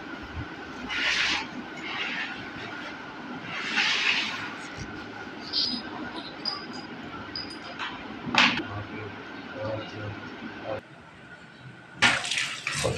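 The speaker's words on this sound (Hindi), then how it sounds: "धोएंगे अच्छी तरह पुदीना और केरी को" Mint and raw mango are rinsed by hand under running water at a kitchen sink: intermittent splashing bursts and a faint steady trickle, with small clinks of handling in between.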